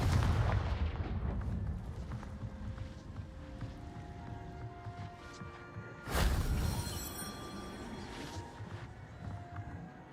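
Fire-blast spell explosions from the Hogwarts Legacy video game burst out, with a sharp loud blast midway that rings and decays over a low rumbling background of game ambience.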